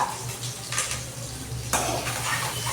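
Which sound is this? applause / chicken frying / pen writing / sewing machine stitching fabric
chicken frying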